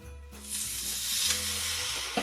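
A ribeye steak sizzles in a hot cast iron pan on a stovetop, giving a steady, loud broadband hiss with crackling pops throughout and no speech.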